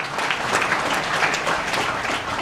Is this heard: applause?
yes